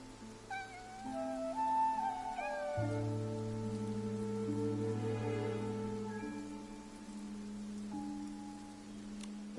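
A cat in the video game Infinity Nikki meows several times in quick, rising cries early on, then goes quiet while rain patters and sustained game music tones carry on.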